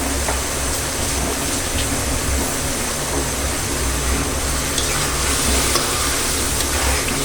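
Boiled, cubed potatoes frying and being stirred in curry gravy, a steady, dense sizzle with scraping stir noises running continuously at close range, with no talking.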